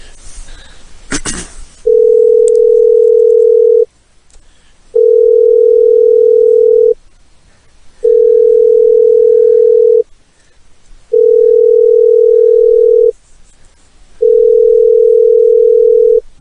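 A landline telephone tone sounds in steady pulses, five long even beeps of about two seconds each separated by short silences, loud and clear after a brief burst of noise at the start.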